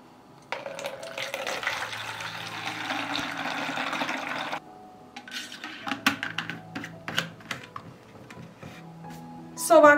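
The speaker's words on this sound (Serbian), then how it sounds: "I ovako dobijen rastvor sipat ću u prskalicu" Diluted solution pours into a garden sprayer in a steady splashing stream for about four seconds, then scattered plastic knocks and clicks as the container is handled.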